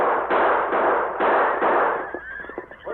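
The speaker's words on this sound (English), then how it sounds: "his own guns were spitting lead" Rapid bursts of gunfire in a radio drama shootout, a few loud crackling volleys back to back, then a ricochet-like whine trailing off as it fades.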